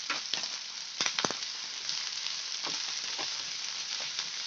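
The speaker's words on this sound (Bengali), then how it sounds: "এগুলো হাই ফ্লেমে ভাজা হবে" Julienned capsicum, cabbage and beans fry over a high flame with a constant close hiss, broken by several sharp stirring crackles. No voices are heard.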